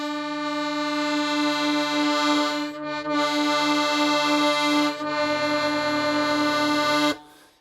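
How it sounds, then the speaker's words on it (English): Accordion reeds with faulty valves give a sustained, buzzing chord that wavers and flutters. It is played loud and close while the bellows push and pull, with brief dips where the direction changes. There is no talk. "you might hear some fluttering sorts of sounds like this"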